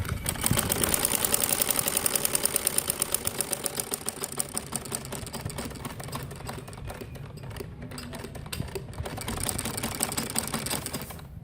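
Domestic sewing machine stitching the side seams of a gathered (kalidar) frock, a fast steady mechanical clatter of repeated needle strokes that runs continuously, loud at first then slightly softer and more uneven toward the end.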